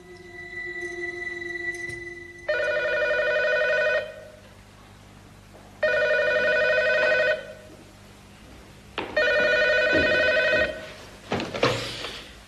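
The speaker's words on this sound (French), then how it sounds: "Qui téléphone à une heure pareille?" An indoor telephone rings in three long, loud, even bursts with silent gaps between them, followed by a click at the end.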